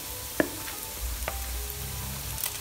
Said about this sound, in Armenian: այս ամենը խառնելով կտապակենք 1-2 րոպե, որից հետո կավելացնենք արդեն հեղուկը